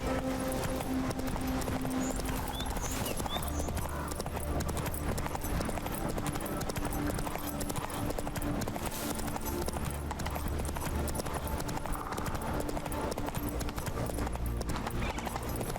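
Hoofbeats of Geralt's horse Roach in The Witcher 3, set in Skellige: steady, rhythmic clip-clop of galloping hooves, close and continuous throughout over game ambience and a faint tonal hum.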